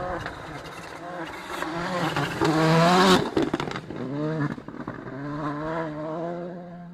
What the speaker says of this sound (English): Hear the wastegate chittering away.